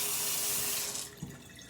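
Tap water running into a small cup being filled to top up a clothes iron, a steady hiss that cuts off near the end, quiet and close with no talking.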